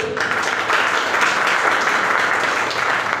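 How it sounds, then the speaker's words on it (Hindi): Steady applause from a crowd, dense clapping that holds at an even level for a few seconds without a break. "ताली सभी"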